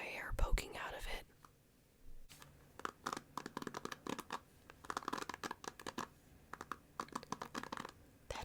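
A hairbrush with hair caught in its bristles is handled close to the microphone, giving quiet scratchy rustles and taps in irregular bursts, soft and intimate.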